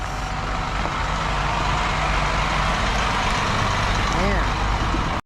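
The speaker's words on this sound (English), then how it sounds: "Comes a long black shuttle bus." A long black shuttle bus rumbles past close by with a steady engine drone, and people talk under the passing noise.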